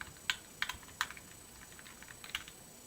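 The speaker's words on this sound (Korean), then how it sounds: "제가 키보드 컴퓨터 자판을 움직여 보겠습니다" Keys tap on a computer keyboard in quiet, light bursts, about a dozen distinct clicks in uneven clusters, with no voices.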